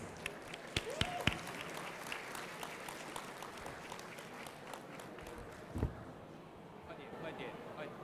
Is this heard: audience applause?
yes